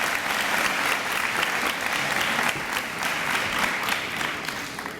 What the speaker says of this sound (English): ladies and gentlemen, let's give Julissa another round of applause.